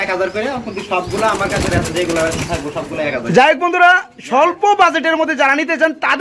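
High-quality racing pigeons coo and murmur in wavering calls, with a loud nearby voice talking over them amid a busy, crowded background.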